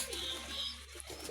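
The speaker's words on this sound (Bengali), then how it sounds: "দুই জোড়া ময়ূরপঙ্খী কবুতর," Indian fantail pigeons coo softly and repeatedly, faint and close-by, with light high chirps over a quiet background and no talk.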